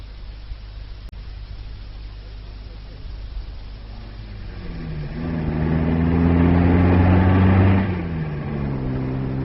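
A car engine hums under steady background hiss, rising in pitch and loudness as the car passes close by, then fading away, like a radio drama sound effect.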